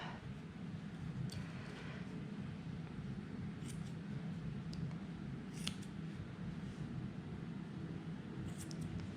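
Scissors snip at angora rabbit fur on the tail, giving a few soft, scattered cuts over a quiet, steady background with no voices.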